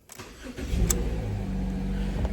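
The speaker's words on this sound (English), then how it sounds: "we're going to take the key, we're going to put it in the ignition, and we're going to start the engine" Turning the key in a Subaru's ignition produces a short burst of cranking, and then the engine catches and settles into a steady idle. It is heard up close, with no talking.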